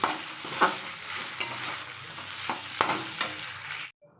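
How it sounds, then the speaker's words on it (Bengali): Vegetarian chow mein noodles tossed with sauces in a hot pan give a loud, steady sizzle broken by sharp spatula clanks and scrapes, ending abruptly near the close. "এই চাউমিনের সাথে সমস্ত সসগুলো মাখোচোকো হয়ে যাবে আর টমেটো সসটা লাস্টে দেবো"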